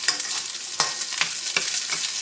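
Ginger and garlic sizzle steadily in hot oil in a pan, sautéing toward golden brown, with a few sharper stirring scrapes breaking through the continuous frying hiss; close and moderately loud, no voices.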